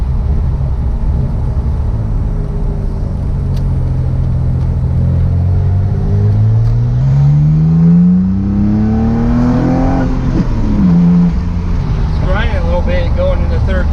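Restored Mitsubishi 3000GT VR4 engine revving hard under acceleration while driving, a loud rising drone that climbs steadily in pitch over several seconds, then drops briefly and picks up again.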